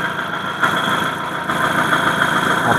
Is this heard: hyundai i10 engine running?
yes